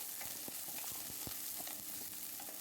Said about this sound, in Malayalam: അരിഞ്ഞു വെച്ചിരിക്കുന്ന സവാള ഇതിലേക്ക് ചേർത്ത് നന്നായിട്ടൊന്ന് വഴറ്റിയെടുക്കാം